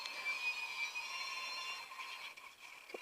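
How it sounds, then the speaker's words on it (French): A doorbell chime plays a little tune, a steady sustained melodic ringing heard alone at moderate level, fading slightly near the end with a faint click. "il y a une petite musique en fond, hein, c'est la sonnette"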